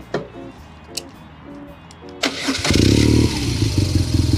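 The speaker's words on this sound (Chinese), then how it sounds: "OK， 打着了，给大家听一下啊。" A BMW R nineT motorcycle with a boxer engine gives a few sharp clicks, then the starter cranks briefly and the engine catches into a loud, close, steady idle.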